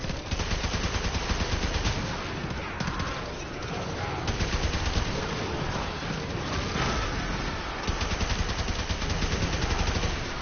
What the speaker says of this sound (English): it becomes an automatic rifle basically, and you don't even need to reload